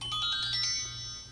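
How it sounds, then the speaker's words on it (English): A mobile phone ringtone chimes in a short, bright melodic burst, faint and fading after under a second, with no talk over it. "oh, that was my phone."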